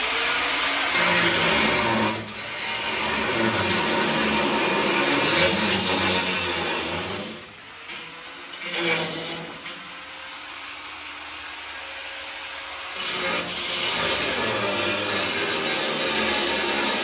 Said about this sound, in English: I'm gonna need to change my grinding wheel here